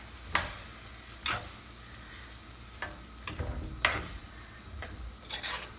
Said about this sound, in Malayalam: ഇനി നന്നായിട്ടൊന്ന് ഇതെല്ലാം ഒന്ന് യോജിപ്പിക്കാം.